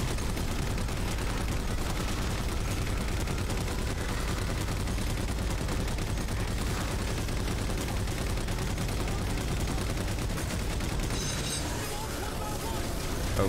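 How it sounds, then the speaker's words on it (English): Turret gunfire in the Halo 4 video game, a dense, continuous clatter of shots and explosions that fills the whole stretch, with talk underneath. "There's a turret. Let's get the turret."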